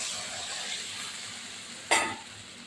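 Spice paste frying for a Bengali tengra fish curry gives a soft continuous sizzle, then a sudden louder hissing burst as water hits the hot pan, followed by stirring.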